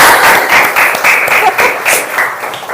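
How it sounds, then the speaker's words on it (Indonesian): A classroom group claps together, a dense loud burst of applause that holds steady for a few seconds before thinning slightly at the end. "Oke, beri tepuk tangan."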